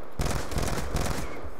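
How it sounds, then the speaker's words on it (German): Rapid gunfire in Call of Duty Black Ops 2 multiplayer, a few loud, close bursts in quick succession filling the short moment with dense, harsh blasts. "das waren drei Schüsse"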